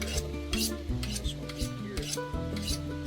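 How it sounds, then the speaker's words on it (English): A knife blade drawn repeatedly across a sharpening stone outdoors at a traditional archery gathering: close, rhythmic rasping strokes about every half second over a steady tonal background. "How long you been sharpening knives like that?"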